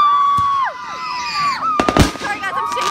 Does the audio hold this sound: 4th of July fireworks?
yes